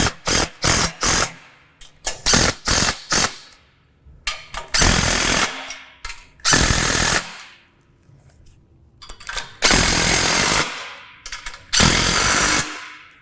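Power tool driving canopy bolts tight with a 9/16 socket while mounting a deluxe canopy on a John Deere Z735M ZTrak mower: rapid clattering impact bursts, first several short ones, then longer sustained rattling runs, close and loud.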